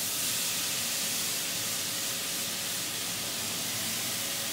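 Bacon and onions sizzling in a frying pan for carbonara, a steady, even hiss of frying fat throughout with no talking.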